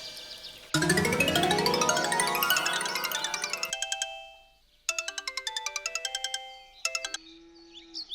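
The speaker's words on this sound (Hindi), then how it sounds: "थोड़ा कपिल ला फोन लगा लेता हूँ।" An electronic phone ringtone plays a bright, repeating melody of chiming tones, clear and up close, with short pauses between phrases and no talking.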